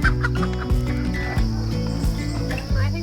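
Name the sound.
chickens clucking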